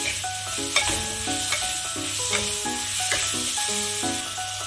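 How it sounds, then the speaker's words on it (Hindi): Black salt, nigella seeds and white salt cook with mango pieces in a pan for sweet-and-sour mango launji, giving a steady close sizzle that runs the whole time under a melodic background tune. "इन मसालों को आम के साथ अच्छे से पका लेंगे।"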